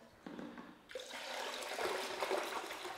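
Whey being ladled off curd while making goat cheese, a splashing, pouring liquid rush that starts gently then grows fuller and steadier, close but soft with no talking.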